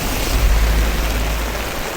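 Steady broadband hiss of rain falling on a rainy day, continuous and fairly loud throughout with a rumbling low end, no voices.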